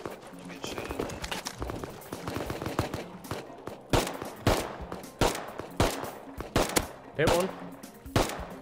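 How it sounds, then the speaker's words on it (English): Video game gun battle while robbing a compound: sharp gunshots crack out in quick single and double bursts, loud and close, over ongoing chatter from players talking. "I'm getting shot at"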